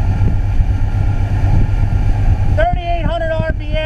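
The engine of a 2000 Jaws Lorequin 24 center console boat drones low and steadily at about 3,800 RPM at roughly 40 mph with rushing wind, loud and close. A voice comes in over it near the end.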